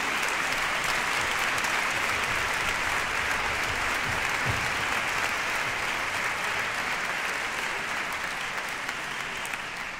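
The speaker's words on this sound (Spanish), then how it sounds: "Un aplauso para Lara" Sustained audience applause at a charity Christmas concert, a loud, even wash of clapping from a large crowd continuing without a break.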